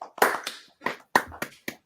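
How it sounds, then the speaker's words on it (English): A handful of sharp hand claps in an uneven rhythm, close and fairly loud, with short gaps between each burst and no talking. "We're still working on that clap thing."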